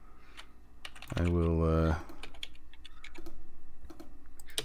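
Rapid clicking keystrokes on a computer keyboard run throughout, close and fairly quiet, briefly interrupted by a short spoken phrase before the typing continues steadily.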